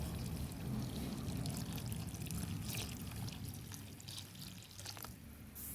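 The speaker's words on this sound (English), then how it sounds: "we are going ahead and add in coconut milk now" Coconut milk poured into a pot for Jamaican rice and peas makes a steady, close liquid pour that runs without a break for several seconds and eases off slightly near the end.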